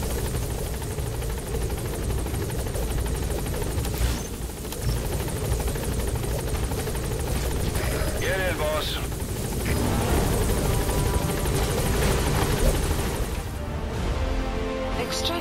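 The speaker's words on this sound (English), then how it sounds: "Pequod, on station at LZ. Support helicopter has arrived." A video game support helicopter's rotor chop and engine whine run loud and continuous throughout as it arrives at a landing zone in Metal Gear Solid V, with a voice and some chirping tones mixed in.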